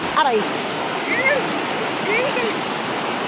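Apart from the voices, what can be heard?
strong river current flowing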